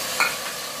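Ginger, cumin and ground coriander frying in a pan, stirred once in a brief scrape over a steady soft sizzle, close and quiet.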